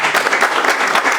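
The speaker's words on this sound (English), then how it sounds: "Let's give them again a round of applause like we just did" Brief burst of audience applause after a conversation event, dense close clapping throughout with no pauses.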